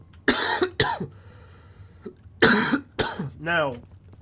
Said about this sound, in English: after I fucking cough my brains out